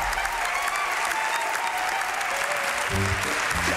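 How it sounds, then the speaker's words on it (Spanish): Studio audience applause on a Spanish television comedy show during a joke-telling contest, a dense, steady wash of clapping throughout, with a few low thumps and a brief voice near the end. "Fuerte aplauso para tu mamá."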